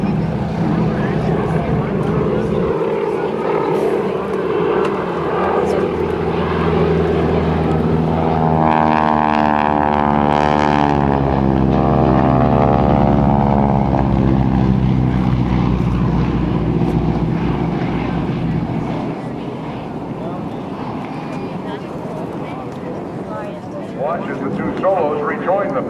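GEICO Skytypers propeller airplane flying a solo bomb run at the 2005 NAS Patuxent River Air Expo, a loud sustained engine drone that rises and sweeps in pitch as it passes overhead, with an announcer talking over it.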